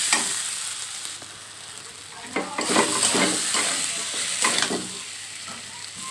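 Spices and turmeric powder sizzle and fry in a pan on a home stove while being stirred, a steady close crackle with a few scraping strokes from the spatula.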